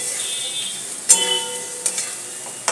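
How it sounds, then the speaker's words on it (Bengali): Boiled potatoes go into a hot pan of spices and are stir-fried, a soft continuous sizzle with a few sharp scraping clinks of the spoon against the pan. "এবার এর মধ্যে আমি আলুগুলো দিয়ে ভালো করে কষে নেব।"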